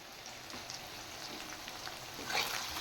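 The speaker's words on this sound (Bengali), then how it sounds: "পেঁয়াজ ভাজা হয়ে গেছে" Onions frying in a pan for a chicken stew, a steady soft sizzle with faint crackles and a brief louder burst near the end, heard close and alone.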